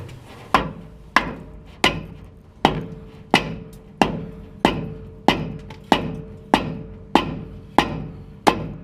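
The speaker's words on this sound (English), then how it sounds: "Hammer it." Sharp metallic hammer blows strike a leaf spring on a Chevy Silverado pickup, about fourteen evenly spaced hits with short ringing decays, steady and close.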